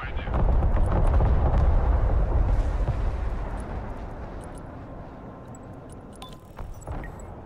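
Explosions and gunfire from the real-time strategy game Broken Arrow during a heavy firefight, a dense roaring barrage that swells loud early then eases into a rumbling backdrop with scattered sharp bursts near the end.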